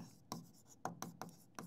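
Chalk or marker strokes on a board in a biology lecture, a handful of short scraping taps and rubs spaced irregularly, faint and close, with no talk over them.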